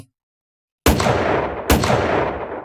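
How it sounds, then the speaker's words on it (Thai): Two loud gunshots ring out in quick succession after a moment of silence, each with a long echoing tail. "และเสียงปืนอีกสองนัดก็ดังขึ้นมาติดติดกัน"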